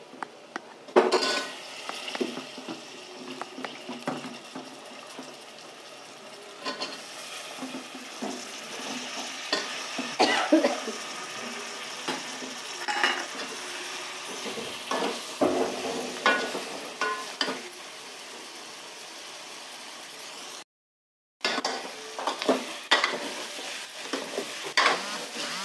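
Pumpkin frying in a pan while a spoon stirs it, giving a continuous gentle sizzle broken by repeated scraping and clinking of the utensil against the pan, with a brief silent gap near the end.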